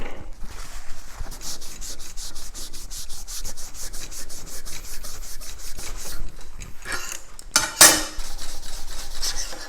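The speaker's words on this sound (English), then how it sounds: "We'll finish it up with the Scotch-Brite pad by hand and just see how it looks." A Scotch-Brite pad rubs by hand across a TIG-welded aluminum patch in quick, regular back-and-forth strokes. The steady scratchy rasp is close and continuous, with a couple of brief metallic scrapes near the end.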